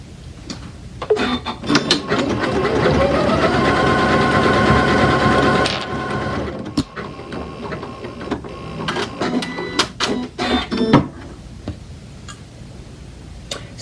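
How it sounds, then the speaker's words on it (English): A sewing machine runs a short test stitch on a zigzag pin cushion project, a loud steady whirring buzz for several seconds, then stops, followed by clicks and handling knocks nearby. "And now when I stitch it out, so let's just do a little test stitch."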